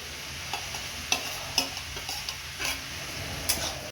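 Grated coconut being stirred into ash gourd in a hot pan: a steady soft sizzle with repeated scraping strokes of the spoon roughly every half second, close and moderately quiet, no voices.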